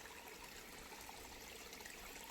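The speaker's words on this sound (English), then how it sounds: "A little creek in the woods." A small woodland creek trickles and babbles steadily, a soft continuous wash of water with no voices.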